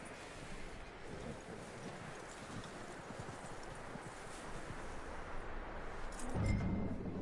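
Horse hooves clip-clop in Red Dead Redemption 2, a steady, fairly quiet stream of hoofbeats under a wash of wind and ambient noise, with a heavier thump near the end.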